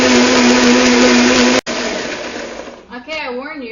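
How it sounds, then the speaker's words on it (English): A blender runs at high speed, blending a raw, dairy-free cashew cheese sauce. The roar is loud and steady, cuts out for a moment, and comes back. A voice speaks briefly near the end. "go ahead and start the blender. So this is loud"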